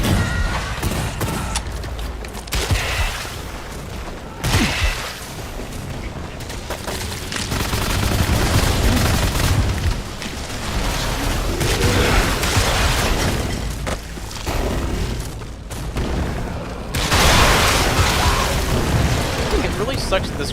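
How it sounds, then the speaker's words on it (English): Grenade launcher blasts and gunfire boom repeatedly in the game Wrath: Aeon of Ruin. The explosions are loud and irregular over a dense, rumbling combat din, and someone talks over the action. "Sucks that this grenade launcher doesn't have like any kind of AoE capabilities"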